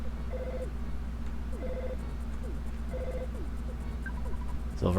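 A telephone rings in the video game Earthbound, with repeated short electronic ring bursts over steady game music and a louder sound at the end.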